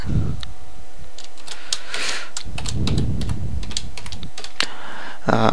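Code being typed on a computer keyboard: quick irregular runs of key clicks and taps, close and fairly loud, with short pauses between bursts and no talking.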